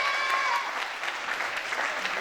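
An audience at the Prodige Haut de France 2022 queen election pageant applauds warmly, a dense, steady wash of clapping that holds for a couple of seconds, with a few thin whistle-like tones near the start.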